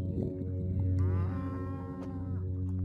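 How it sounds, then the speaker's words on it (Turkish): A cow moos in the Kerege-Tash valley in Kyrgyzstan: one long, loud, low and steady call with a rich harmonic tone that lasts the whole moment, close by, with no talking. "inek ise burada"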